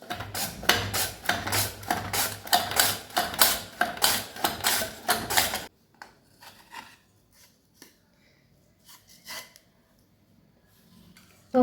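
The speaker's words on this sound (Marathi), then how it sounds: "या प्रकारे आपल्याला चिप्स सर्व खिसून घ्यायचं आहे" Potatoes rubbed on a hand grater over a pot, quick rhythmic scraping strokes, loud and close for several seconds, then stopping abruptly, leaving faint scattered handling noises.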